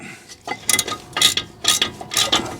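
A ratchet tightening 18mm brake caliper bolts on a mk1 Audi TT during a front brake pad change: quick bursts of close, rapid clicking, about five strokes in a steady back-and-forth rhythm, with no talk.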